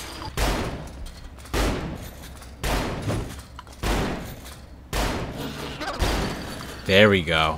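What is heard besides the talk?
gunfire in the video game Saints Row the Third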